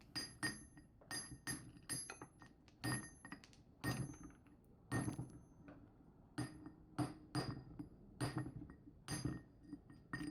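A stone candle holder is hollowed out by hand with careful taps, giving a steady series of sharp, ringing knocks and clinks, close and fairly loud, with short gaps between the strikes.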